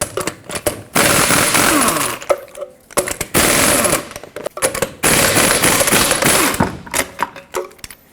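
Lug nuts come off a 2009-2014 Ford F-150 front wheel with a pneumatic impact wrench, loud rattling hammering bursts of about a second each separated by short pauses, close up.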